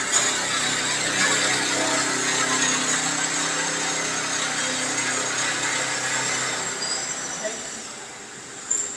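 In a factory, a drill bores holes in a heating pipe, making a steady, shrill, ringing whine with squealing overtones that holds for several seconds before easing off, loud and close.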